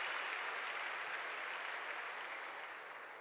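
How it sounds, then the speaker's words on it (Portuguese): Congregation applause at a Sunday church service, a dense, steady wash of clapping from many hands that holds evenly throughout and tapers only slightly at the end, with no voices over it. "Dá um aplauso ao Senhor."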